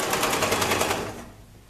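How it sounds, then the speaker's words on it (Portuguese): A sewing machine stitches fabric side panels in a rapid, even mechanical rattle that runs for about a second and then trails off into quiet. "E costura."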